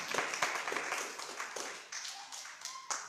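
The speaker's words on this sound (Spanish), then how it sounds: "Dale un aplauso al Señor." Church congregation clapping during a sermon, a quiet, uneven patter of hands with scattered sharper claps, distant and faint, with a faint voice in the mix.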